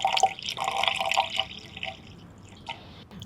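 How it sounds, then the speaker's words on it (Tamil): Water poured into a bowl of dry ginger and turmeric powder for a headache remedy, giving a burst of splashy, dripping liquid sounds up close that taper into quieter trickles within a few seconds, with no talking. "ஸோ அரை டம்ளர் அளவுக்கு நம்ம தண்ணீர் சேர்த்து இது நல்லா மிக்ஸ் பண்ணிக்கலாம்."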